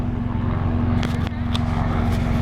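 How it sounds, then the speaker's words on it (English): A steady, loud engine drone with a deep rhythmic throb, a helicopter passing close overhead in São Paulo, constant throughout with no voices. "And look at the helicopter, man."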